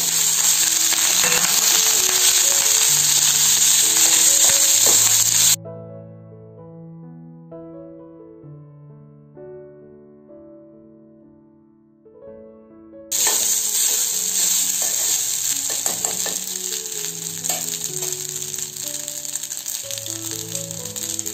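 Rice tossed with spluttered cumin in a pan on the stove, sizzling and rattling steadily as it is stirred, with a quieter stretch of frying in the middle.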